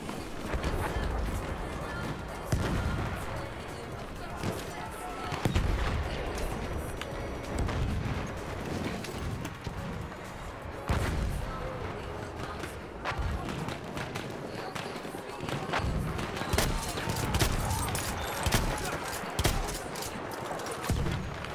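Battlefield 1 gunfire: dense, continuous bursts of rifle and machine-gun shots with explosions, chaotic and loud throughout, mixed with game effects.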